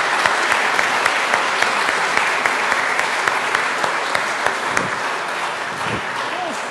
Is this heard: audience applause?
yes